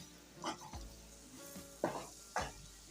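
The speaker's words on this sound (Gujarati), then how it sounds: "લોટ નાખીને એકવાર આ રીતના શાકને હલાવી લઈશું" Gram flour being stirred into drumstick curry in a pan, with a few distinct scraping stirs against a faint sizzle, close and fairly quiet.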